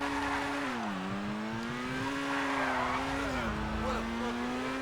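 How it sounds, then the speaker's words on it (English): Steady idling car engine in GTA 5 Online, a low continuous hum with slight pitch dips and rises, loud and close, running alone without talk. "I like the idle sound, though. Listen. Really good idle sound."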